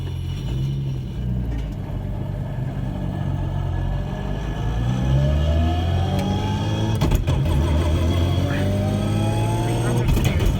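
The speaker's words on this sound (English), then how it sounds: "First time experiencing a straight cut gearbox." A car with a straight-cut gearbox drives and accelerates from the cabin, its engine droning low with rising gear whine as it revs through the gears, while people talk over it.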